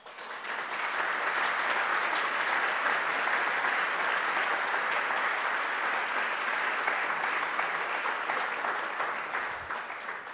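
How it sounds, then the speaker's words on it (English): Sustained applause for finalists at a European small and mid-cap business awards ceremony, a broad steady roar of many hands clapping from the hall, moderately distant and unbroken for about ten seconds. "let me start by asking from all of you a big round of applause to all the finalists"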